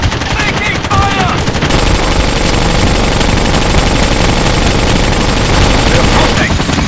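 Dense, loud automatic gunfire in a Rainbow Six 3 firefight rattles continuously for the whole stretch, shots overlapping into a constant roar with brief radio voices underneath.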